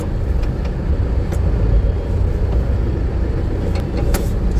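A car crawls through traffic on a potholed road, a steady close low rumble of engine and road noise with occasional faint knocks and bumps.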